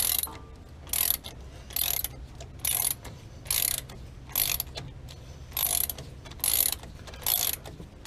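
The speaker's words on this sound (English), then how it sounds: "The little ratchet won't even take it off." Ratchet wrench working on a brake caliper bolt on a 1999 Damon Challenger RV, eight evenly spaced bursts of close clicking ratchet strokes with brief pauses between them, no talk.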